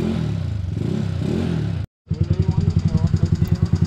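A Mio Sporty motorcycle with a leaking carburetor revs hard during a power test, its loud, close engine rising and falling in pulsing bursts, cutting out briefly, then returning in rapid rhythmic revving.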